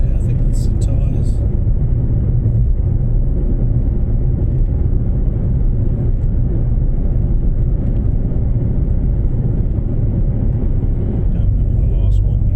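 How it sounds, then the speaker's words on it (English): Loud, steady low rumble of tyre road noise inside a moving Fiat Panda car, continuous throughout with faint brief higher sounds near the start. "Quite a lot of road noise in this car"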